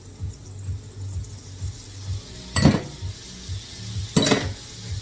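Spoon stirring Dijon mustard and lime juice together in a pan, soft scraping with two sharp metallic clanks of utensil against pan and a faint sizzle beneath, close and alone.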